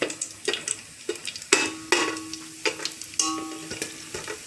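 Whole biryani spices sizzle in hot oil in a pan for a prawn biryani, with a steady close hiss broken by repeated sharp spoon scrapes and clinks against the metal.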